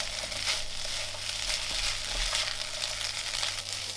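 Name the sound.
fried rice being stirred and coated in oyster sauce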